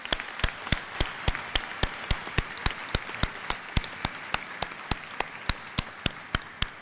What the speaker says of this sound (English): let's all recognize the parents, grandparents, relatives, partners, spouses, children, and friends of the candidates for their graduation with a round of applause